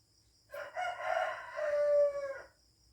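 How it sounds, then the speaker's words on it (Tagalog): A rooster crows once, loud and close, with a long drawn-out call on a farm where chickens and chicks are raised; no clucking stands out, and no one speaks. "nag-aalaga kami ng mga manok. Kaya marami kami manok dito ngayon."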